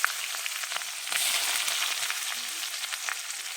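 Onions fry in a pan with a steady, close sizzling hiss that swells slightly midway and continues without pause.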